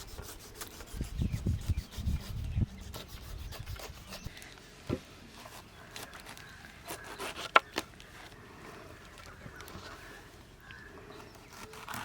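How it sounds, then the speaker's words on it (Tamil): A knife cuts a pineapple into pieces, giving soft, repeated scraping and rasping strokes through the fruit, close but faint, with small clicks and no voices. "அன்னாசி பழத்தை நல்லா பீஸ் பீஸாக கட் பண்ணிக்க போகிறோம்."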